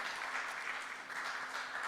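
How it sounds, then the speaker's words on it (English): A concert audience applauds two musicians at a Brooklyn music school event in New York, with steady sustained clapping that holds through the clip, dense and fairly near, and no voices over it. "Can we have one more round of applause for our two musicians"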